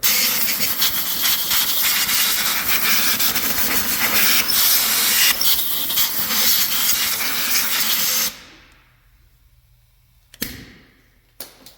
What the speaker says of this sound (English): Just take compressed air.